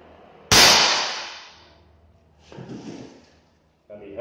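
A single sharp crack of a PCP air rifle shot, loud and close, decays over about a second, followed by a quieter clatter and someone speaking in the background.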